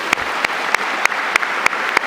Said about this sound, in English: join me in giving all of our stage guests a round of applause